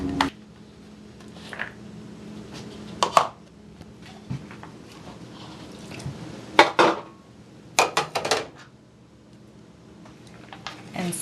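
Quinoa recipe ingredients, chopped cilantro among them, are tipped into a pot and stirred, giving a string of scattered clinks, clatters and scrapes of utensils on cookware at close range, with quiet stretches in between.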